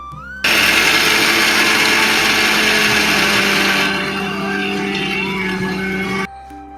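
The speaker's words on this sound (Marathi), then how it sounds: "शेंगदाण्यांना मी थोडं जास्त वेळ ग्राइंड केलं आहे" A mixer grinder whirs loudly as it grinds peanuts into a fine powder, starting abruptly, running at a steady high-pitched whine for about six seconds, easing slightly partway through, then stopping.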